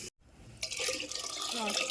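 Water is poured into a cooking pot for sambar, a short, close gush and splash that starts abruptly and keeps running to the end.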